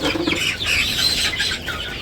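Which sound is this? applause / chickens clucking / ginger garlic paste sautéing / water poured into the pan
chickens clucking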